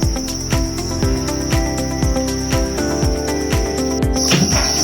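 Crickets on a cricket farm keep up a steady, loud, continuous chirping, with a regular rhythmic pulsing underneath throughout.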